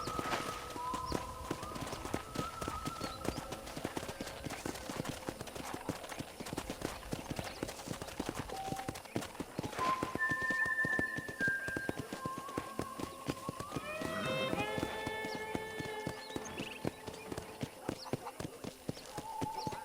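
Steady clip-clop of horse hooves trotting at an even pace in Red Dead Redemption, with game music and a voice talking over it, plus a short whinny.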